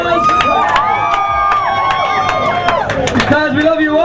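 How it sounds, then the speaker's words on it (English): A crowd at a party on a boat in Hawaii cheers and shouts loudly and continuously, with whoops and a few sharp claps standing out, close and filling the whole stretch. "Everybody give yourself a round of applause."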